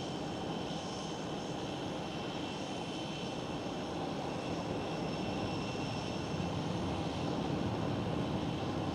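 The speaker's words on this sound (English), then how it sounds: "Eastern Airways, flying for KLM City Hopper." An Eastern Airways airliner operating for KLM Cityhopper roars past at Amsterdam Schiphol, a loud, continuous engine rumble and whine that holds steady and swells slightly toward the end, with no voices.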